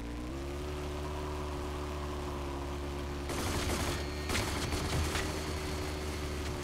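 Turret gunfire in the PC shooter RAGE, rattling bursts breaking in about midway over a steady engine-like drone, with a second clattering volley shortly after.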